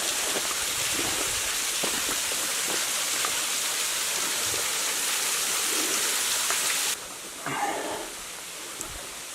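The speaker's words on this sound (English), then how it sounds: "little waterfall up here." Steady broadband rush of a small waterfall at Turkey Run State Park, constant and close, dropping abruptly to a quieter outdoor hiss near the end.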